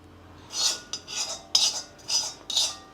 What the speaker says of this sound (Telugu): నువ్వుల పిండిలో వేసి వేడి మీదే కలుపుతాను